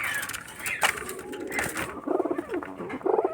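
Giribaz pigeons from Rajshahi coo repeatedly inside a cage, close and fairly loud, with soft rustling and throaty calls overlapping through the whole stretch.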